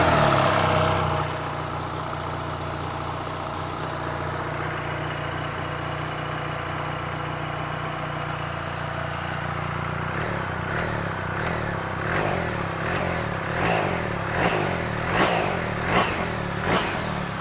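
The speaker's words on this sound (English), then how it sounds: "The engine sound is not that different comparing to the previous model" A 2023 BMW R 1300 GS Tramuntana motorcycle engine settles into a steady idle, then gets a series of sharp throttle blips that rise and fall in quick repeated revs toward the end, close and clear with no talk.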